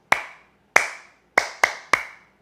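Five sharp hand claps for Jala Kriya yoga practice, close and dry, each ringing briefly before fading. The claps come in an uneven grouping: two spaced apart, then three in quicker succession.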